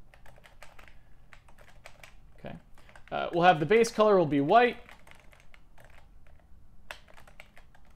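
A computer keyboard clicks faintly and quickly in short runs, before and after someone speaks briefly close by.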